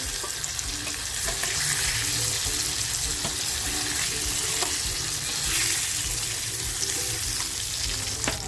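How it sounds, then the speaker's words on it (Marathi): Pieces of rawas fish fry in hot oil in a home kitchen for a rawas masala dish, giving a dense, steady sizzle close by, with occasional light clinks. "मच्छी आपली छान अर्धवट फ्राय झालेली आहे काढून घेते"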